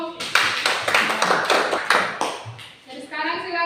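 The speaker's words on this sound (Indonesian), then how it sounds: "Grace, tepuk tangan dulu" Students in a classroom lesson clap together in a brisk rhythmic series of close, sharp bursts, and the clapping fades out near the end.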